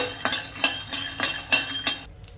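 A quarter kilo of peanuts fried in a pan over a medium flame, stirred in about seven even, close scraping strokes with light metallic clinks, ending in a brief pause.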